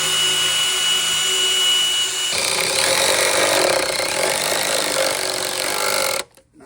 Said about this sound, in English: we got to drill a clearance hole for our bolt